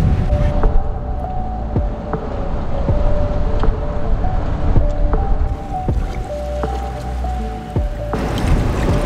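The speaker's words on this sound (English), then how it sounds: "It's windy." Strong wind on the Oregon coast buffets steadily and loudly across the whole stretch, with rushing low rumble and surf-like wash, and a few brief knocks and clicks scattered through.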